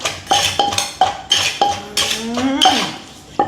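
Thai papaya salad is pounded in a mortar with a pestle: a steady run of sharp knocks, each followed by a ringing clink, loud and close. A short scraping stir breaks the rhythm midway.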